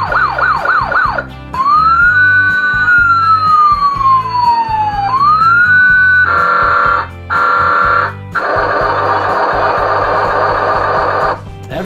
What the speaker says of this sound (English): Look, sirens everywhere.